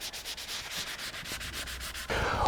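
Fine 220-grit sandpaper strokes quickly across a wooden guitar neck, a close, soft rhythmic rasping in even back-and-forth passes that turns into a louder, steadier scrub near the end.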